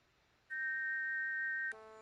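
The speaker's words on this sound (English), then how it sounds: "You put the shiny silver whistle to your lips and forcefully blow into it, producing a loud tweet." A silver whistle blown in the DOS game King's Quest IV gives a loud, steady synthesized tone lasting just over a second. It stops abruptly and a buzzier electronic note follows.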